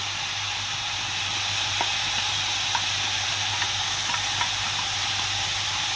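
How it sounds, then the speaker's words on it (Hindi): Ginger garlic paste sizzling in a pot of beef nihari, a steady loud frying hiss throughout with a few faint clicks of stirring. "भुने असी हम इसे डाल देंगे अदरक लहसुन का पेस्ट।"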